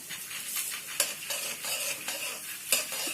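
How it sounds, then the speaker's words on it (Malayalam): Flattened rice with jaggery is stirred and sautéed in a pan until brown, giving a steady soft sizzle broken by repeated scraping strokes of a spoon against the pan. "ബ്രൗൺ നിറം ആവുന്നതിന് വരെ നമുക്കതിനെ വഴറ്റിക്കൊണ്ടിരിക്കാം"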